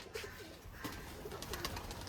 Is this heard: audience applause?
no